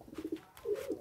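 Racing pigeon cooing softly in a loft during training, with low, rounded coo phrases repeated in a short burst close by, a brief pause, then a longer rolling coo.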